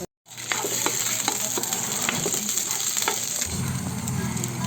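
Steady hissing sizzle of sausage frying in a pan, with occasional pops and crackles and a few stirring scrapes, close and continuous with no talking.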